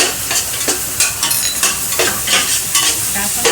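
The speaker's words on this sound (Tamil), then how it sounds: "கரம் மசாலா போடுறேன்." Garam masala is stirred into a sizzling onion-tomato masala for biryani, with a steady frying hiss broken by repeated scraping strokes of a spoon through the pan, close and without talk.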